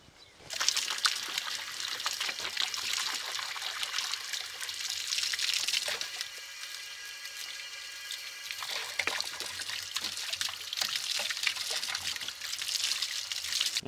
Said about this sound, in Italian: L'ho lavato ovviamente solo con l'acqua, ragazzi, perché non serve sapone